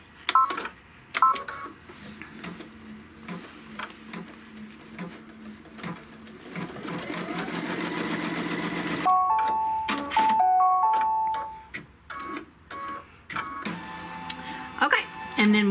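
An embroidery machine sews the tack-down stitching on a belt bag, a busy mechanical whirring and rapid needle chatter with intermittent electronic beeps, while a person talks over it.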